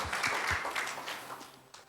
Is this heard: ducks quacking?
no